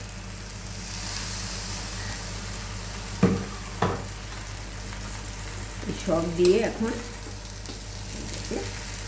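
Prawns and green peas frying in a pan with garam masala for prawn pulao, a steady sizzle throughout with a few stirring scrapes and clatters, while a voice speaks briefly.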